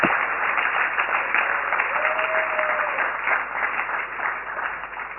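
Lecture audience breaking into sustained applause, dense clapping from many hands filling the hall at steady loudness, gradually thinning toward the end.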